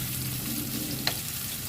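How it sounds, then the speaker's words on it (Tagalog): Onions sauté in a pan with a constant soft sizzle, broken by one brief scrape of stirring. "I-gisa lang natin ng bahagya yung ating sibuyas"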